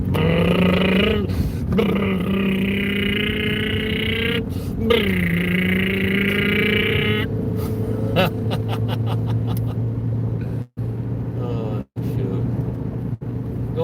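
A modified hot-rod Toyota Prius pulls away with a loud, droning engine whose pitch rises and wavers as it accelerates, heard close up from inside the car with steady rumbling vibration underneath.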